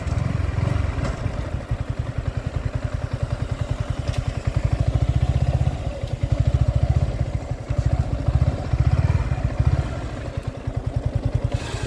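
A motorcycle engine, from a Honda CB Unicorn and Yamaha R15 v4 set up for a drag race test, idles and revs close by with a loud, pulsing chug and throttle blips that rise and fall throughout.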